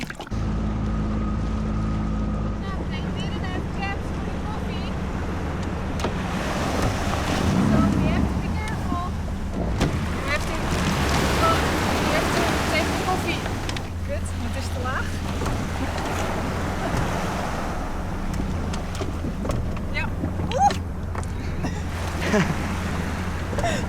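Choppy sea waves slap around a boat at sea while wind buffets the microphone, a continuous rushing wash with a low engine-like hum at the start and voices talking now and then.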